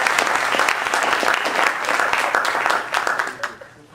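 Audience applause for a prize donor at a D-Movement event in Detroit, a dense, steady wash of many hands clapping that holds for several seconds before tapering off at the end.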